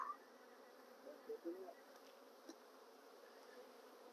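A steady low insect hum of honeybees buzzing during a hive move fills the whole stretch, faint and continuous, with a few slightly louder passes.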